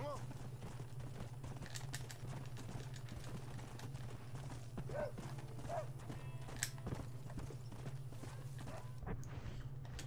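Steady, rhythmic clip-clop of a horse's hooves on a hard surface in Red Dead Redemption over a constant low hum, with occasional faint voices and game-like sounds.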